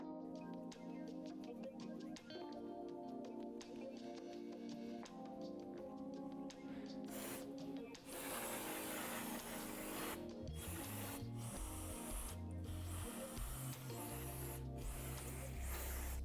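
Old gasket material scraped off a Yamaha TW200 engine case, with steady scraping and rubbing strokes close up, followed by harsher, louder rhythmic scraping in the second half.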